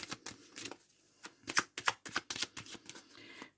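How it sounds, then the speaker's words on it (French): Tarot cards are shuffled for a nine-card spread, giving a quiet run of crisp riffling and slapping taps in irregular bursts, close and alone. "On va faire un tirage en 9 cartes."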